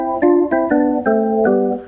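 Organ voice on a Casio CT-655 keyboard: four sustained chords played in succession, each a bright, steady organ tone with a sharp onset, loud and close with no talking.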